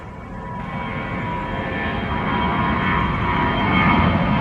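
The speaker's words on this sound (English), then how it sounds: "We've got an EasyJet Airbus" EasyJet Airbus A319 jet departing Gatwick, a loud continuous engine roar with a rising whine that builds steadily as the aircraft climbs away.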